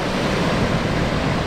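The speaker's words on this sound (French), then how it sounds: "Ah, il y a des vagues." Ocean waves crash on a rocky shore in a loud, dense roar that fills the whole stretch, close to the microphone and steady, with some wind buffeting.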